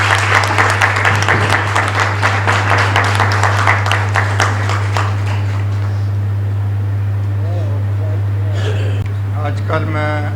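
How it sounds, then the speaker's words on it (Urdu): Applause from a seated audience at a speech event in Pakistan, a dense steady clatter of clapping over a constant low mains hum, tapering off after about five seconds into quieter room sound. "تو آپ سب کی بھرپور تالیوں میں اظہار خیال کے لیے بلانا چاہوں گا جناب شعیب ص"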